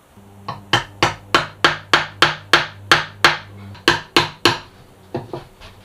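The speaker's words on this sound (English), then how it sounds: "Gotta figure a way that I can hammer on this" A hammer strikes metal about a dozen times in a steady, ringing rhythm aboard a boat under refit, each blow sharp and close, with a few lighter taps at the end.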